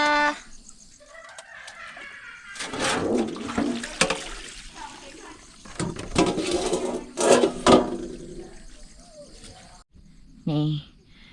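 Beef being washed by hand in water, with irregular splashing and sloshing bursts between pauses, a rooster crowing in the background and someone talking.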